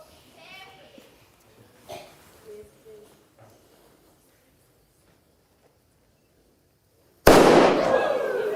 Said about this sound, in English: When the fuse burns down and the cannon fires